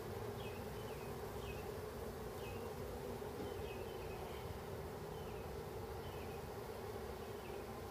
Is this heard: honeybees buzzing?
yes